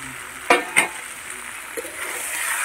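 Two tomatoes go into chicken trimmings cooking with a slit green chilli: two quick clunks land close together over a soft, low sizzle, then a fainter knock follows as the sizzle swells slightly.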